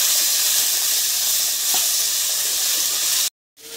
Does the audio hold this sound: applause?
no